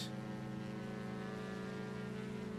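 Twin engines of a Diamond DA-62 running up to high power on the runway in X-Plane 11, a steady droning hum with layered harmonic tones, loud and constant throughout with no talk.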